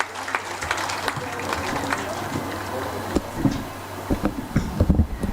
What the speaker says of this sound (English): how about a nice round of applause for Tony and Mookie Wilson